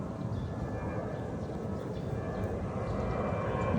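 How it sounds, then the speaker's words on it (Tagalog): A passing airplane drones as a steady, broad engine rumble during an outdoor walk on a sunny morning, fairly loud and continuous with no talking. "At may aeroplano na naman."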